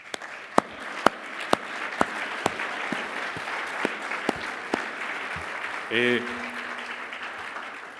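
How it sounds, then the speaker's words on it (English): An audience at a sport-for-peace conference session applauds as world athletics and Formula 1 champions are introduced, a broad steady clapping bed with several loud individual claps up close, a brief voice, and a short electronic tone partway through. "Vous pouvez les applaudir."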